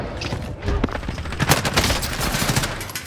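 Rapid automatic gunfire rattles in Call of Duty zombies, dense bursts of shots crowding together in a loud continuous fusillade with short pauses, heard close.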